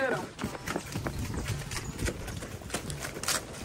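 Rapid hoofbeats of a running mare clatter steadily during a group horseback ride, with excited voices talking and shouting over them.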